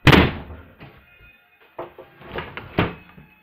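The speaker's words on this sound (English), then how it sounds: "So now, shut the door." A door shuts in the Kirby video game, giving a sharp thud at the start followed by softer knocking and clattering bumps, with no talking.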